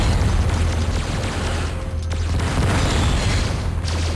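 A missile blast in the Descent video game destroys a driller robot, a loud, dense rumbling boom that fills the whole clip, with a low steady engine drone beneath it.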